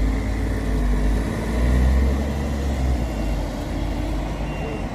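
Bus number 11219 pulls out of the Ribeirão Preto road terminal with a steady, loud diesel rumble close by, and a faint beeping sits over the engine throughout.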